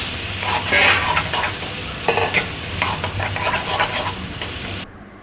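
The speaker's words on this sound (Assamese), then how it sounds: "তেলখিনি যাতে নহৰু চহৰু জলকীয়া গোটেইখিনি যাতে লগ হৈ যায়, ভালদৰে মিক্স কৰি দিছোঁ।" Mashed potato, onion and brinjal bharta is mixed with mustard oil, giving a close, continuous wet stirring and squelching that scrapes and churns for several seconds before stopping abruptly.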